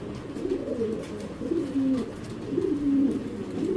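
Pigeons, foreign racing breed, cooing softly in a low, throaty murmur that rises and falls in a few repeated phrases over steady background noise.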